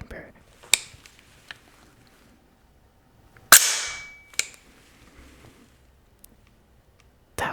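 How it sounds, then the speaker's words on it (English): An AR15's bolt carrier group slams forward into the chamber after the bolt release is pressed, a single sharp metallic clack midway, surrounded by quieter handling clicks and taps. "Let's release the bad lever to drop the bolt carrier group back into the chamber."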